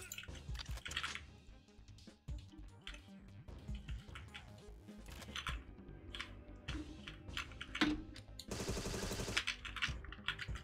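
Rapid machine gun fire in the Agent 64: Spies Never Die demo crackles in repeated short bursts of clicky, snappy shots, moderately loud, with a denser burst near the end.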